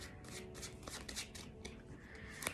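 Tarot cards are shuffled by hand during a reading, producing a steady, close riffling and flicking with soft rapid card slaps that continue without a break, with no talking.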